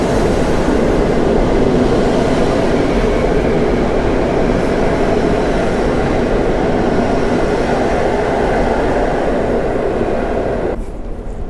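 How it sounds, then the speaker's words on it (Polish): A train's wagons rush past close by in a loud, unbroken roar with rumbling wheels, holding steady for about eleven seconds before cutting off abruptly, with no talk. "To były wagony, co? To się działo."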